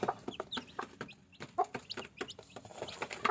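A mother hen clucks in short, repeated bursts close by while her chicks add quick, high peeps between them, an uneven chatter of farmyard fowl with no talking.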